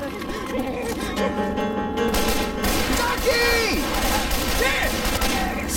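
Sustained Left 4 Dead gunfire rattles loud and close through the whole stretch in a steady fusillade, with game voices and chatter mixed in.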